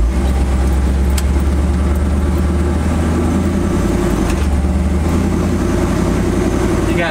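A cammed Chevy C10 pickup engine rumbles loudly and unevenly up close, with a lopey idle and rising throttle as the truck moves off, and no voices over it.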